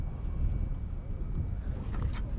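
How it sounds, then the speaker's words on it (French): Strong wind buffets the microphone at Salagou lake during feeder fishing, a constant low rumble with gusts that swell and fade, plus faint water and tackle noise. "on essaye de contrer un peu le vent qui est de plus en plus fort"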